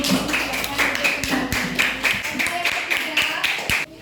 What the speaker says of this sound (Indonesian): beri tepuk tangan kelompoknya Rani